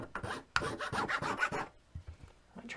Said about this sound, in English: just start filing away at this rosewood.